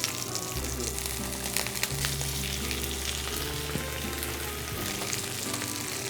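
Spring seasonal fish frying in hot oil in a pan, producing a dense, steady sizzle and crackle close by, with a faint low hum underneath and no speech.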